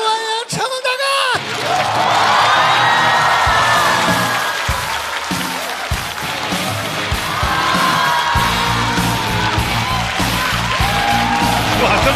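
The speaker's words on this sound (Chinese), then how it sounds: "掌声欢迎成龙大哥！" A live stand-up comedy audience bursts into loud, sustained cheering, yelling and applause as Jackie Chan is welcomed onto the stage, the crowd roar filling the room without pause.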